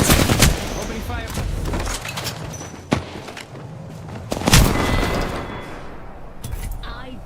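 Dense, loud gunfire in the Apex Legends shooter game: automatic bursts and sharp single shots over a busy battle mix, with a few heavier thumps.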